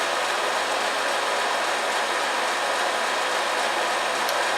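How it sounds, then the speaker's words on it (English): A milling machine runs at its slowest speed, about 300 RPM, after its motor pulley was changed, giving a steady, even mechanical drone with a low hum and no talking. "I want to see what the RPM this mill will run at its slowest speed"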